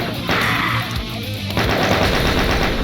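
Rapid gunfire from a weapon in the classic shooter Doom, loud dense bursts of repeated shots in two stretches with a brief dip between them.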